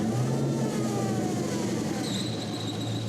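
The Jeep Hurricane concept car with twin Hemi engines revs hard, a continuous loud roar with a rising whine and a brief high squeal partway through.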